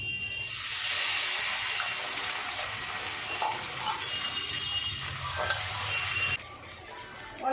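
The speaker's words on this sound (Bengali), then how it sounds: "কালো জিরে ভাজা হয়ে গেছে এবার আমি পেঁয়াজটা দিয়ে দেবো" Onions hit hot oil after nigella seeds in a home kitchen wok, setting off a loud, steady sizzle that later drops off abruptly, with a few stirring clanks.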